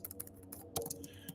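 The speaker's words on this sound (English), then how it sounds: "Hold on, I'm typing this in." Quick, uneven keystrokes patter on a computer keyboard in an irregular stream, soft and close, with no talking.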